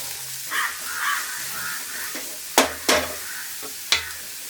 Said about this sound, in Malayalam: ഇനി നമ്മൾ നന്നായിട്ടൊന്ന് വഴറ്റി കൊടുക്കാം.